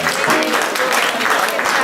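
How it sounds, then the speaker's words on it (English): Dense, steady audience applause fills a jazz concert hall in Portland, loud and continuous clapping throughout with no pauses. "So give them a round of applause."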